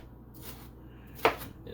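A knife chopping vegetables for pico de gallo on a cutting board, a few soft cuts followed by one sharp distinct chop, close, with faint background talk.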